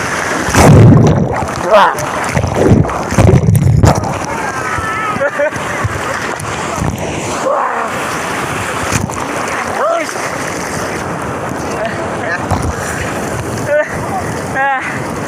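Sea waves wash onto the beach at Puri in a steady roar of surf with wind buffeting the microphone, while people nearby talk and exclaim over it.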